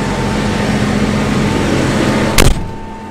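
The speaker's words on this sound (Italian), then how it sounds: "Voglio farvi provare la cabina, tra le più silenziose del mercato." Steady low engine hum and broadband cabin noise inside the cab of a New Holland T8.435 tractor, with a brief louder thump or clunk near the end before the drone eases slightly.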